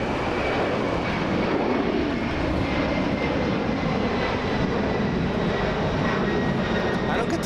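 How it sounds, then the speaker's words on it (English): A LATAM airliner departing Los Angeles International for Lima, Peru, off the south side, gives a broad, sustained jet roar that stays loud and even, with a voice audible beneath it. "We have Latam, this one doing a very rare south side departure."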